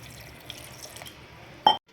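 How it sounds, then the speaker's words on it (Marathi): Water is poured into a mixer jar of green chillies and salt being ground for a spicy peanut amti; a short, loud splash comes near the end after quiet kitchen background. "ह्याच्यामध्ये मी थोडंसं पाणी पण टाकणार आहे"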